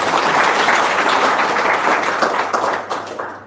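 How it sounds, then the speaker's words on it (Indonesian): An audience bursts into applause, steady dense clapping that holds for a few seconds and then thins out toward the end. "Tepuk tangan dong."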